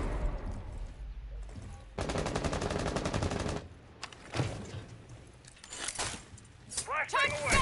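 Gunfire in Rainbow Six Siege: a dense, rapid automatic burst lasting about two seconds, followed by scattered single shots and clatter. Player voices talk over parts of it.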